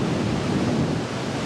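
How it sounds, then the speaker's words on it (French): Big ocean waves crash and roar on the beach at Nazaré, Portugal, a loud, dense, continuous wash of surf mixed with wind buffeting the microphone. "Selfie avec les vagues de Nazaré."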